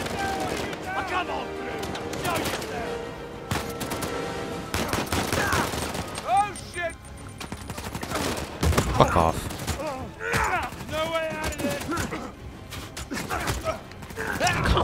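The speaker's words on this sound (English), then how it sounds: "Who the fuck is shooting me?" Gunfire in the video game Uncharted 4: rapid, near-continuous shots and bursts rattling throughout, with excited talk and shouting layered over the shooting.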